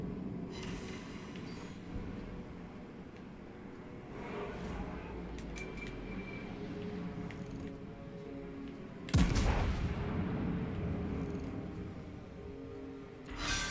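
Naval artillery from World of Warships: a single loud, booming salvo midway, with a rumbling ambient hum and scattered smaller reports around it; a voice speaks at times.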